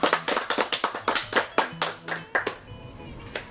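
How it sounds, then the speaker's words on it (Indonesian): A small audience at an Indonesian talk-show gathering claps in a burst of distinct, fairly close hand claps that thin out and fade after a few seconds. "Tepuk tangan untuk mereka."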